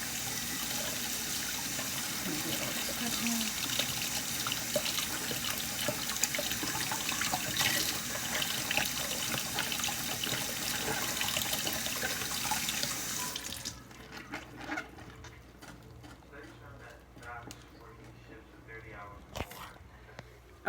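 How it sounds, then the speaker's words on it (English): A tap runs steadily over a bottle being washed with soap in a sink, a close continuous splashing rush that stops partway through, leaving quiet drips and handling sounds. "I washed it with a little bit of soap and just kind of rubbed it"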